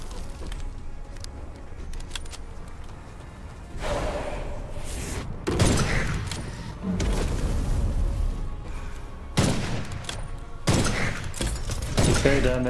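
Gunfire in the video game Witchfire during a boss fight comes as heavy, booming shots and impacts in separate bursts amid loud game noise, with a voice speaking in places.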